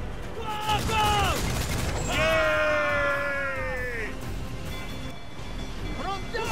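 Ship cannons fire in rolling bursts during a naval battle in Assassin's Creed IV Black Flag, loud booms over ocean ambience, with shouted crew voices and tonal game sounds layered through.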